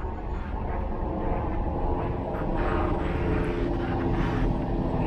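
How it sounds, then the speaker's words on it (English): Helicopter overhead on a London street walk in Pimlico, a steady loud roaring rumble of engine and rotor that fills the whole stretch without letup. "Of course, there's a helicopter overhead."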